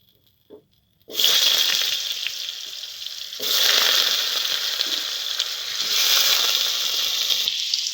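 Potatoes are tipped into hot oil in a pan after a brief silence. A loud, bright sizzle erupts at once, then surges again as the pieces are stirred, staying close and steady.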